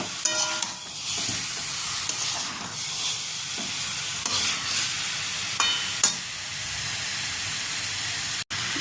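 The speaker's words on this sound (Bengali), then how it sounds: "ডিম, আলু, ফুলকপি এই মশলার সাথে খুব ভালোভাবে নাড়াচাড়া করে দেব।" Egg, potato and cauliflower being stirred in a spiced masala in a pan, with steady sizzling and frying hiss and scraping stir strokes throughout, close and fairly loud, no talking.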